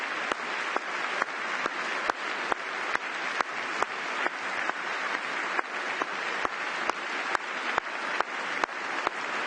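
Applause fills a chamber during a State of the Union speech, a long steady roll of crowd clapping broken by regular sharp clicks, sustained and fairly loud from start to finish.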